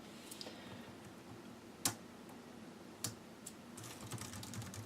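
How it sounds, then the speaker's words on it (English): Keys tapped on a 2012 HP Pavilion dv4 laptop keyboard, sparse quiet clicks with a few sharper strokes, close but faint, with no talking. "I like the sound of this keyboard though, it's very, very nice."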